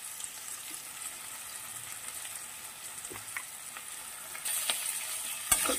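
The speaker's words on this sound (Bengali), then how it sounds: "একটু নাড়াচাড়া করে এরপর সিম আছে, আমি এটাকে 2 মিনিটের মতন ভেজে নেব" Beans frying in a pan with salt and turmeric give a steady, close sizzle, broken by occasional scrapes and clinks as the pan is stirred. No voices are heard.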